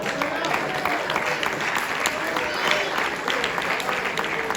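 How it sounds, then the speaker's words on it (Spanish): A church congregation applauds during a sermon, sustained dense clapping from many hands filling the room, with voices shouting over it. "Dale un aplauso al Señor."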